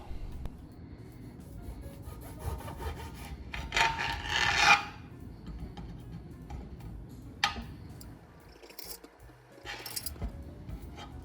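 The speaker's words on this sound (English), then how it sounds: "Now, all I'm gonna do is put this in slices." A knife cutting a lime into slices on a board, giving soft scraping rasps and a few sharp taps against the surface, close and quiet with gaps between cuts.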